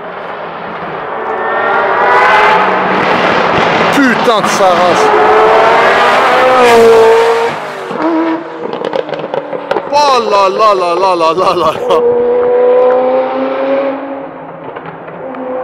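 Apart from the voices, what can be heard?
Ferrari F40 sports car engine passing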